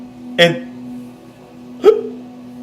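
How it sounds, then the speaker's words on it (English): Two short, sharp burps from a man about a second and a half apart, close and fairly loud against a quiet room with a steady low hum. "I'm burping a lot."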